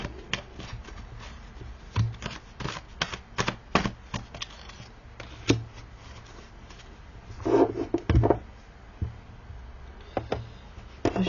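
Tarot cards being shuffled for a reading at a small desk, with a run of soft, irregular riffling and flicking sounds, a few sharper card snaps and a busier flurry near the end, fairly close and quiet, with no voice.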